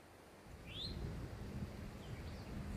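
Migrating prairie warbler on the Gulf coast in spring, a single thin rising chirp followed by faint distant calls over steady low wind rumble.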